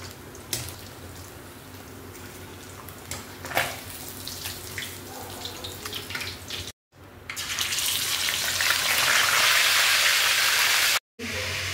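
Kitchen clatter gives way to a loud, steady hissing crackle of molmol (parrotfish) frying in hot oil, broken by two brief silences.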